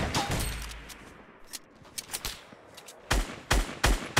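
Gunfire in the Fortnite battle royale video game: bursts of shots at the start, scattered single cracks through the middle, then several loud, close volleys toward the end, with no talk.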